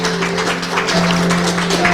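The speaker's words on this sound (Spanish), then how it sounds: "Démosle un aplauso al Señor" Steady applause from a church congregation fills the whole moment, dense and continuous, with a sustained tone humming underneath.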